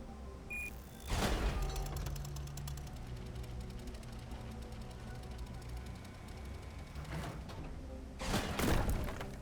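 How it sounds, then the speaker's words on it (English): Fireworks in the video game Tales of the Neon Sea: two loud broadband thumping bursts, near the start and again toward the end, over a steady hum of game music and ambience. "Everything's ready now to watch the fireworks."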